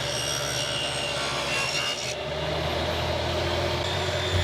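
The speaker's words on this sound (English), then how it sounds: "I'm going to do that by adjusting my table saw to half the thickness of these boards and running the boards along my table saw fence" A table saw runs a sustained cut, shaving a shallow groove into boards guided along the fence, with a steady loud whine and rough wood rasp that shifts pitch midway.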